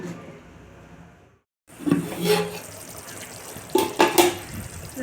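Chicken biryani gravy cooks in a pot with soft bubbling and a wet hiss, broken by a brief pause and then louder spoon scrapes and metallic clinks against the pot.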